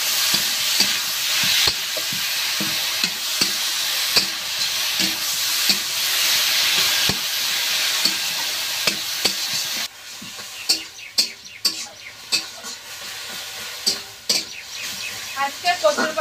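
Taro leaves fry and sizzle loudly in a pan, with regular scraping stirs at first, then sharper irregular clatters and spatters of the spoon against the pan.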